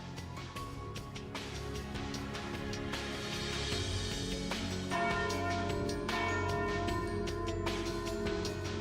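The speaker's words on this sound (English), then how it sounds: "Ah, and there's the noon bell." A noon bell rings during a carnival in The Legend of Heroes: Trails Through Daybreak, with repeated resonant bell strikes sustained over a steady game background for several seconds.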